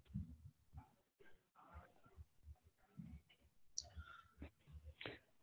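Quiet computer mouse clicks at close range, irregular and spaced out, with soft taps scattered over a few seconds.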